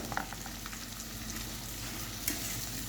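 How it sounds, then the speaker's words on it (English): Fish sautéing in a hot pan for Jamaican escovitch, a steady, close sizzle and crackle of frying with occasional stirring scrapes and pops, no voices over it. "So I'm sauteing this"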